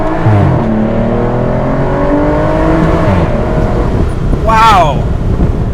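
An Aston Martin DBS with a V12 engine sends out a loud, steady drone with gliding pitch, then a brief rising rev near the end, all heard up close.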